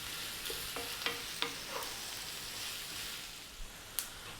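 Onions sizzle in a pan over medium-high heat, a soft, steady frying hiss. A utensil stirs them with several light scraping clicks in the first half and a couple of sharper taps near the end.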